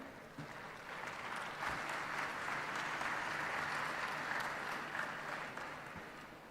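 An audience at the R.I.D.E. 2024 research, innovation, design and entrepreneurship event applauds a speaker after his session, a sustained, even round of clapping that rises quickly, holds for several seconds and then tapers off.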